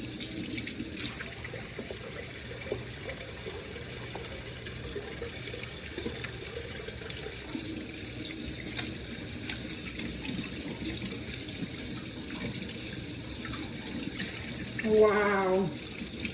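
Warm tap water runs steadily into a kitchen sink for hand washing, a continuous close hiss of flowing water with small splashes, and a brief bright clink near the end.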